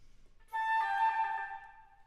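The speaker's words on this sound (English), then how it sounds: "with Baroque style, starting on that upper appoggiatura," A Baroque-style flute trill begins on the upper appoggiatura, a bright tone alternating rapidly between two close pitches, sustained for over a second after a brief lead-in note, played alone in a recital setting.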